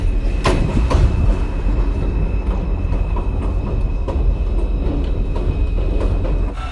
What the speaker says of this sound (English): This is a Queens-bound M local train.